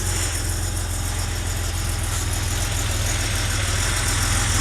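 A 1989 Porsche 930 Turbo Cabriolet with a G50 gearbox idles steadily during a cold-start warm-up, a loud, close, continuous engine rumble with an even pulsing beat and no talking.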